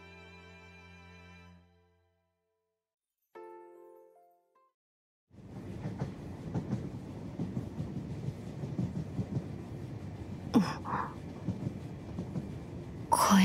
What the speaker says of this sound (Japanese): 帰りの電車。